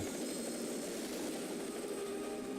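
Helicopter in the video game Metal Gear Solid 2, a steady, fairly faint rotor and engine drone that holds without change for a couple of seconds, with no talking.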